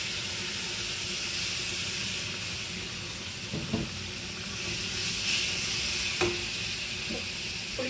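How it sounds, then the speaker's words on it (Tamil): Chili powder sizzles in hot oil for a spicy shrimp curry, a steady, fairly loud hiss with a few small pops and the clink of stirring. "இது எண்ணெயிலேயே அப்படியே தாளி படுது."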